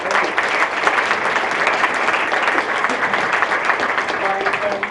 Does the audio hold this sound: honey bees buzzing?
no